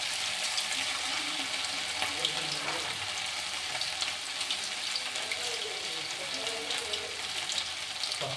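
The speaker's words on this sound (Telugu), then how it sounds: "మొత్తం అన్నీ ఇట్లా వేసుకొని ఫ్రై చేసుకుందాం." Chicken pakodi frying in hot oil, a continuous bubbling hiss up close, with occasional soft clinks and a watery wash running underneath.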